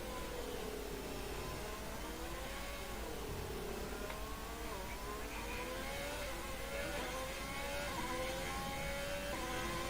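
A Formula 1 Alfa Romeo car in a racing video game during an esports league race in Baku, its engine whining and shifting pitch continuously as it accelerates and revs through gears.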